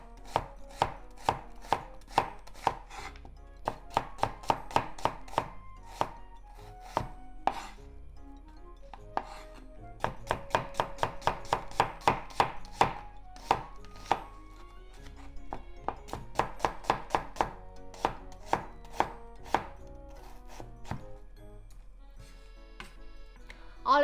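Onion cut into thin slices with a knife for onion and green bean kakiage tempura: crisp, rapid chopping strokes on a board, loud and close, in quick runs with brief pauses between bursts.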